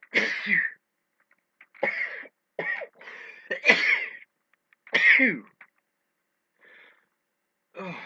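A string of sharp sneezing and spluttering bursts after sniffing snuff, close and fairly quiet, spaced unevenly over several seconds with short gasps and a brief exclamation between them.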